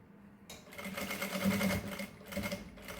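Sewing machine stitching fabric for a mesh belt bag, a close rapid mechanical whir that starts after a brief silence, swells and eases in short runs, with faint talk underneath.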